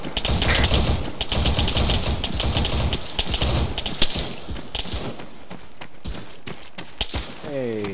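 Rapid machine gun bursts in Arma 3, loud and close, rattling in dense volleys that thin out toward the end, with scattered single shots and a voice talking underneath.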